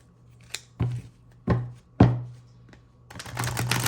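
Tarot cards are shuffled by hand: a few soft slaps and taps of the deck, then a quick rustling riffle toward the end, close by with no talking.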